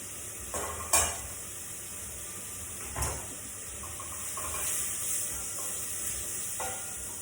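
Vegetables added to a hot pan of onion give a soft, low sizzle, with a few sharp clinks and scrapes from stirring, close but quiet, and no talk.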